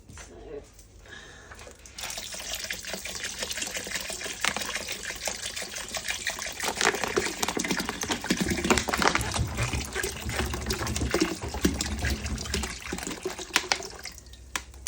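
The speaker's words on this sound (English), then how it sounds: "And then I'm going to add the remaining water." Water pours steadily from a vessel into a batch of blackberry wine, making a continuous splashing, gurgling fill that runs for about twelve seconds, close and fairly loud, with no talk over it.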